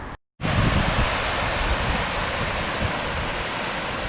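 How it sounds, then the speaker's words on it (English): Steady broadband roar of water pouring over Walk Mill Weir on a Sheffield river, loud and continuous after a brief dropout at the start, with no voices. "I've come across the first weir, which is called the Walk Mill Weir"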